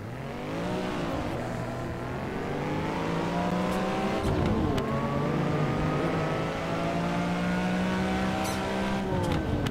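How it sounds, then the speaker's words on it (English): A classic Lamborghini revs and accelerates in a sim racing game on a Los Angeles road, its engine note climbing and falling through gear shifts, loud and steady throughout with no talking. "I can jump into this classic Lamborghini and drive a realistic road in Los Angeles around some other iconic cars"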